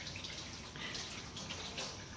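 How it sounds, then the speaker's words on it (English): Hot tap water runs steadily over hands being washed with soap, a continuous close hiss with faint splashing and no talk. "I don't like washing my hands with cold water."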